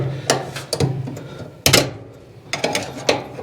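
A screwdriver pries up a plastic part on a Whirlpool Duet dryer, giving close, sharp clicks and snaps in irregular bursts of two or three.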